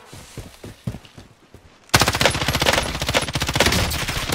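Rapid automatic gunfire from a video game weapon bursts in loud and sustained halfway through, following a quieter stretch with a few soft voice sounds.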